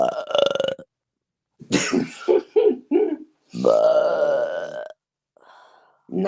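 Several loud, drawn-out burps ring out one after another with short pauses between, the last one long and croaking, ending on a faint trailing belch.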